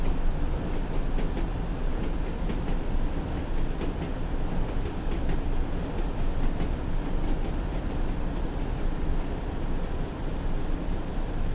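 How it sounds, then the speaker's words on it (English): Class 101 diesel multiple unit in Train Sim World 2020, a steady loud rumble of engine and rail noise with faint rhythmic clicks, continuous throughout with no talk. "I like this train though, it's really cool, the 101, with the changing gears."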